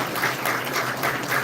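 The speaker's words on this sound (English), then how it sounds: "Please give them another round of applause" Brief burst of audience applause at a ceremony, a dense wash of clapping from a crowd with no voices over it.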